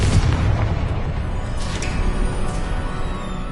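Bombarda and Confringo spell explosions in the Hogwarts Legacy video game: a dense, continuous low boom and rumble, loud and close, with crackling debris textures throughout and no talk.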